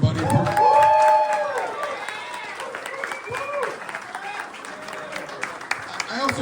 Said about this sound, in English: give a big, big clap up for Bill Piper, everybody.